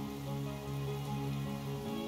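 Rain falls in the video game Atelier Ryza 3, a soft, steady patter of drops sitting under a sustained, tonal musical background that runs through the whole stretch, with no voices.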